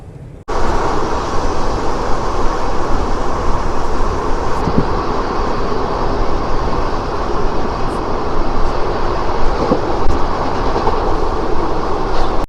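Seshadri Express train travelling from Tirupati toward Bengaluru, heard from on board as a steady, loud rumble of wheels and carriages running continuously near the microphone, with faint clickety-clack over the rail joints and no talking.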